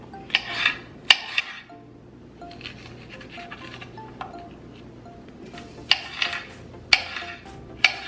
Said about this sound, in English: Get all the seeds out, chop.